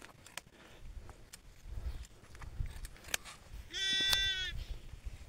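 A single sheep bleats once in a wavering call at middle distance during wool shearing on a Nepali sheep farm, set against faint outdoor background noise and scattered soft knocks.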